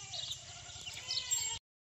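Goats bleating in a farm shed during light rain, a short close call with a wavering tone lasting under two seconds, alone with no talk.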